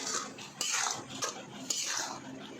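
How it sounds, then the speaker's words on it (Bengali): Spoon scraping and stirring a coconut, sesame and rice mixture in a pan, with three sharp clinks against the metal over a steady scratchy rustle, close and fairly faint. "দেখুন আমরা সুন্দরভাবে নেড়ে নিচ্ছি।"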